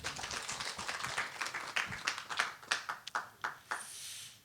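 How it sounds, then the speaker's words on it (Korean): An audience at a lecture-hall reunification academy event claps, starting as a dense patter and thinning into a handful of separate, fading claps. "박수 한번 쳐주십시오."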